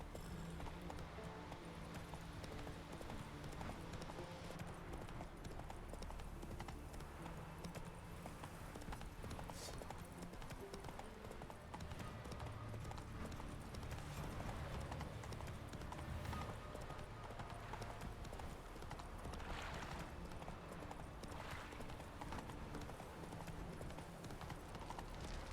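Roach the horse's hooves clip-clopping in The Witcher video game, faint rhythmic hoofbeats under ambient game sound with an occasional snort or whinny, continuous and distant-sounding throughout.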